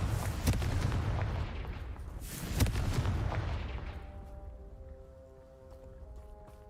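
Confringo spell blasts in the Hogwarts Legacy video game: a run of sharp booming impacts with rumbling explosive tails, then a quieter ringing decay with faint tonal game sounds.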